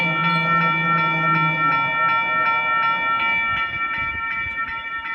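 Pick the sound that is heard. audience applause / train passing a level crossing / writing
train passing a level crossing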